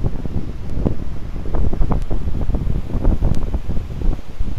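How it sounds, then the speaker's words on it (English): Icy wind gusts through a mountain valley on New Zealand's South Island, buffeting the microphone loudly and continuously with low, rumbling bursts and no speech. "Some good ice wind coming off there."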